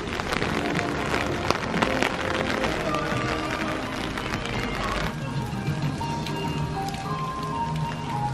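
Rain falls steadily at an outdoor market in Jeonju, a dense continuous patter on surfaces with faint background murmur throughout.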